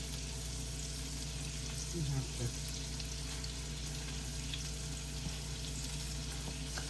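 Salmon frying in a pan gives a quiet, continuous sizzle close by, with a few small clicks and bumps as it is handled.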